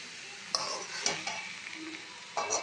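Leftover mixed rice is stirred and fried in a pan, with a few sharp spatula scrapes and clinks over a soft sizzle, close and brief.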